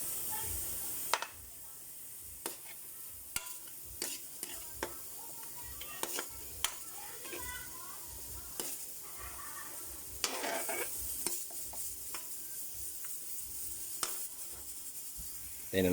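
Pork sautéing in a pan with annatto for kare-kare, a continuous soft sizzle and hiss broken by occasional scraping stirs and clinks of a spoon, close and steady throughout.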